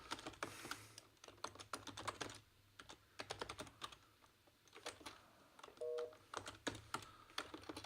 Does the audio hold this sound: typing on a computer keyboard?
yes